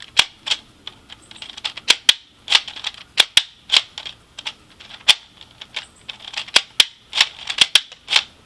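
A Tek Recon Hammerhead toy blaster pistol fires a long run of sharp, dry snapping shots at an irregular pace, close and crisp with no talking.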